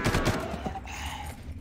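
Shots from the player's weapon in Far Cry, a quick cluster of loud reports that then fades into lingering echo and ambient noise.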